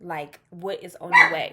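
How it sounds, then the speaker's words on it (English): A pet dog barks and yips several times in quick bursts close by indoors, overlapping with a person talking. "Sorry for the dog. I do have a dog."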